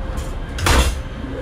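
A single heavy door in the engine room of a BR 233 diesel locomotive thuds shut, a brief dull knock over a steady low mechanical hum of fans.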